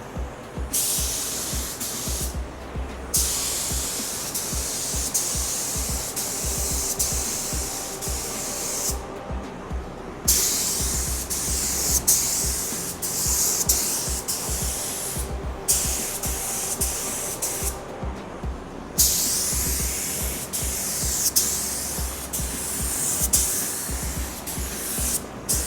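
A spray gun lays paint on a VW Beetle body in repeated passes, loud hissing bursts broken by brief pauses, with a low compressor rumble continuing underneath.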